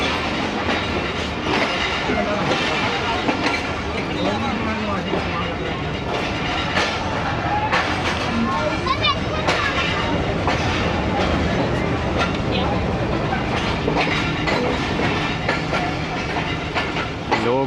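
A Rehman Baba Express passenger train at a Pakistani station between Khanewal and Faisalabad gives a loud, continuous rumble with clattering wheels and hissing, and people talk over it throughout.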